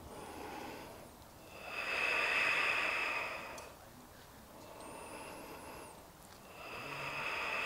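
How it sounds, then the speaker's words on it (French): Slow, audible breaths during a Nordic Yoga warrior posture held with poles: a long inhale swells, then eases into a gentler exhale, and the cycle begins again, close and fairly quiet, with no speech. "J'inspire, j'expire."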